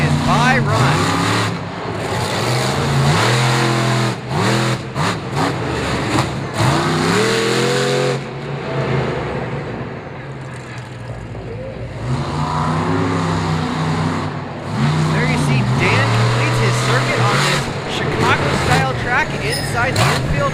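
A drag racing car makes its solo bye run at Bristol Motor Speedway, its loud engine rising in repeated revving sweeps close by, with an announcer talking over much of it.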